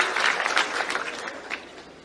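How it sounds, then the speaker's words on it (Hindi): An audience at a ceremony marking a state youth wing president taking office claps loudly and steadily, a dense wash of applause that slowly fades. "सारे मंच के लिए एक बार जोरदार ताली बजा दें।"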